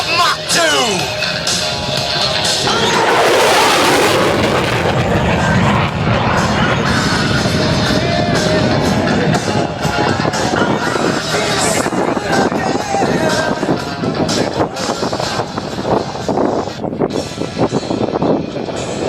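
A USAF F-16 Viper jet screams past at low altitude and high speed during the 2011 Hillsboro airshow, a loud sustained roar swelling and sweeping through, with an announcer's voice over it.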